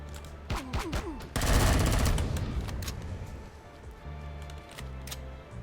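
Gunfire in the space survival game Empyrion Galactic Survival, with a dense, loud burst of rapid shots lasting about a second and a half, then a lingering rumble and scattered distant shots over a low game hum.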